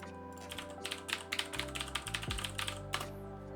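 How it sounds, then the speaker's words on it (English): Typing on a mechanical keyboard with Cherry Blue switches, a steady run of sharp, clicky keystrokes close to the microphone, layered over a sustained electronic background tone that shifts pitch partway through. "I know you can hear me typing away."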